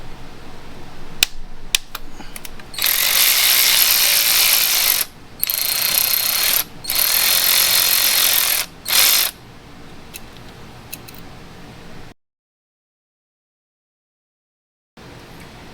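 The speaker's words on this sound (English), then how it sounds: "So here we need an E8 torque socket." A hand ratchet fitted with an E8 Torx socket clicks in bursts while removing the oil squirter from a BMW N55 engine, with close, bright rapid pawl clicks between pauses, then silence.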